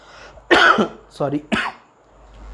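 A few harsh, close coughs in quick succession, with a throat-clearing quality, loud against a quiet room.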